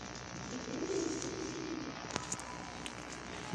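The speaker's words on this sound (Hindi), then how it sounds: "प्योर कबूतर ने कोई क्रास नहीं है, सलेटी घमग्गर और प्रिंस घमग्गर।" Saleti and Prince Kamagar pigeons coo softly close by, with a low, throaty coo swelling in the first half, followed by a few sharp clicks and quiet rustling.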